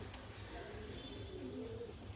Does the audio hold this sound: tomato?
no